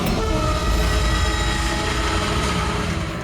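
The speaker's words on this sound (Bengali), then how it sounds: "স্যার, ট্রেন সুড়ঙ্গ দিয়ে যাচ্ছিল" A passenger train runs through a tunnel, a loud, dense rumble and rattle of the cars filling the whole stretch without letup.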